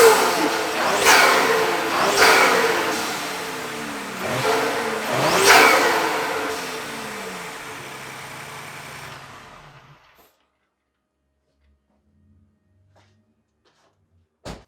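A 2020 Ford Explorer ST fitted with a custom cold air intake revs loudly several times, each rise and fall distinct, then the engine shuts off and falls silent.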